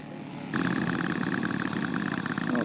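Scale model Eindecker aircraft coming in to land on pavement, its small propeller engine suddenly rising to a steady, buzzing drone with a wavering pitch, fairly close and continuous.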